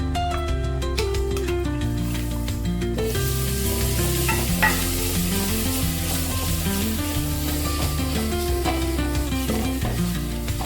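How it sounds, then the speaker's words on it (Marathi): Malvani masala with onion, turmeric and roasted garam masala sizzles and is stirred in a pan for a Konkan-style crab curry. The frying hiss is steady and continuous, with occasional scrapes of the spoon. "मसाला व्यवस्थित परतून घेतलेलो हा"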